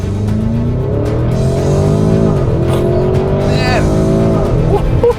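A 2024 Porsche Cayenne Turbo GT launching hard under launch control in Sport Plus mode, engine roaring loud and close as it climbs through rising gear pulls with brief shift dips, with a voice speaking over it.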